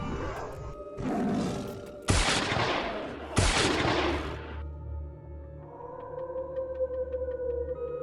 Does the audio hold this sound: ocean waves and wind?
no